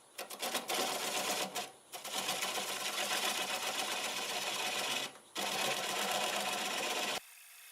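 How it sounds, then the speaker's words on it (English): A wood lathe spins at about 500 RPM while a half-inch bowl gouge cuts a juniper bowl, making a loud, close, continuous scraping chatter broken by two brief pauses before it drops to a quieter hum. "Half-inch bowl gouge, doing about 500 RPM."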